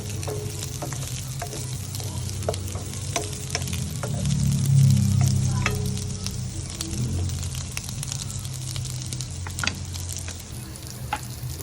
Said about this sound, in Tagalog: Haluin ko lang to at lulutuin lang natin ng konti yung sibuyas.